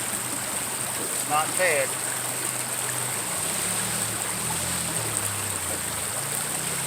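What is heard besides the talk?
water running through a gold prospecting sluice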